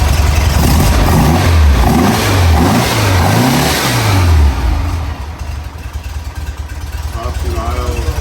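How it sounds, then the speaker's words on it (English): A 1962 Porsche 356 S 90 engine, cold, revs up and down in several swelling blips, loud and close, then settles into a lower steady running note. "That's another start from just a completely cold car"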